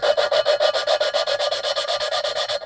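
Valve lapping with grinding compound on an LQ4 cylinder head fitted with 2.02-inch intake valves, a rapid rhythmic back-and-forth gritty rubbing, about eight strokes per second, steady and close without speech.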